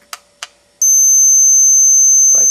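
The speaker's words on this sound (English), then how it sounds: "Light comes on and it beeps." A dog training collar gives a loud, steady, high electronic beep lasting about a second and a half, right after two soft button clicks.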